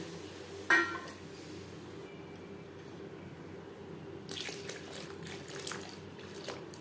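Water is poured into a pot of masoor dal cooking with chalta, a quiet splash and trickle near the start followed by soft bubbling and gurgling from the pot.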